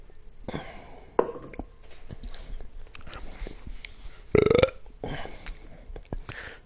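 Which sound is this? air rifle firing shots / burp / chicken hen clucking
burp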